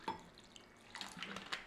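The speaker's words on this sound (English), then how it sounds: "you want a little bit of water in there" A little water is added to a bowl of chopped date cubes for a microwave sticky toffee pudding, giving faint splashes and trickles in a quiet kitchen, with a soft patter near the start and a brief burst of pouring later.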